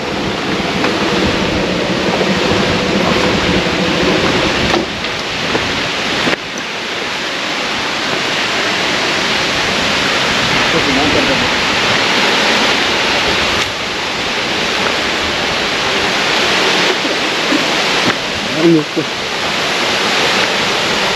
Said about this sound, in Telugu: సో గైస్ వాటర్ ఫాల్ చూశారు కదా ఎంత ఫోర్స్గా వస్తున్నాయో పైనుంచి